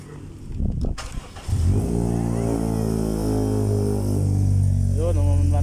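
A Honda Civic FD engine cranks briefly, then catches and settles into a steady, loud idle nearby, with a slight rise in revs near the end and a voice speaking faintly in the background.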